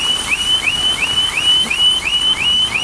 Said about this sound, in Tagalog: Nag-alarm pa, kaya malakas na baterya siguro.